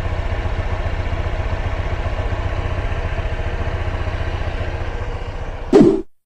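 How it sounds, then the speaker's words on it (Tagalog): A Honda Click 125i scooter engine idles quietly with an even, rapid putter, ending in a brief clunk before it goes silent. "765 odo tayo, ganito katahimik yung ating makina. So naririnig nyo ba?"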